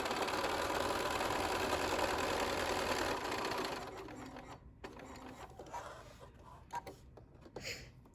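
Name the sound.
sewing machine sewing a quarter-inch seam on fabric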